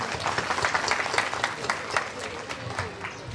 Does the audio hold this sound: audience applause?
yes